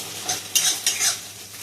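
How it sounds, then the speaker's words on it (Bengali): Onions frying in a pan and being stirred, with bright crackling sizzle and two or three quick scraping strokes of a spatula, close and loud, no voices. "পেঁয়াজটা লাল লাল করে ভাজা হবে।"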